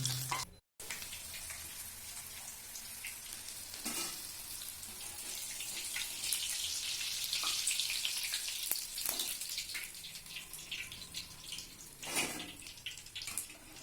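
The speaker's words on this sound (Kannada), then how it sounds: "ಎಣ್ಣೆ ಚೆನ್ನಾಗಿ ಕಾದ ನಂತರ ಬೋಂಡವನ್ನು ಬಿಡಬಹುದು. ಈಗ ಬೋಂಡವನ್ನು ಬಿಡಿ." Mirchi bonda frying in hot oil, a steady broadband sizzle that holds throughout after a brief dropout near the start, with a few louder bursts of bubbling and clatter.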